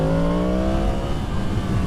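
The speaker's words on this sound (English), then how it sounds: "Oh, that engine just sounds so good." A 2023 Yamaha MT-10 SP motorcycle engine revs hard, its rising harmonic whine climbing then easing off into a rough, loud rumble heard up close, with no talking.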